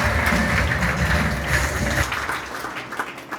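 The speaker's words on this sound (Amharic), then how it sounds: "ለእግዚአብሔር ክብር አጨብጭቡ።" A church congregation applauding at a prophetic worship service, with dense, steady clapping from a large crowd that stays loud for two seconds and then thins and fades.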